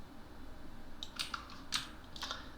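Computer keyboard keys pressed while working in 3D modeling software: a handful of separate, fairly faint clicks over a steady low background hum, with no talking.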